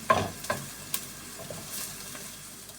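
Chopped garlic hits a hot pan for corn soup and sizzles, with a few sharp scraping stirs near the start settling into a low, steady frying crackle.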